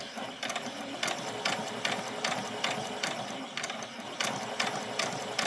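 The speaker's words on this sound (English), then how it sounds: "We're going to stitch up and around here with 2 rows of tacking stitch" A domestic sewing machine runs tacking stitches around a small doll's dress in short bursts. Each burst is a quick rhythmic mechanical clatter, repeated about a dozen times at close range with no voices.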